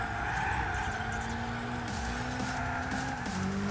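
A turbocharged race car with no grip on track in Gran Turismo 6, its engine droning at a steady pitch that dips and shifts while tires squeal and skid beneath it, with no voices.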